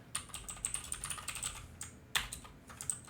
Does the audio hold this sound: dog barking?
no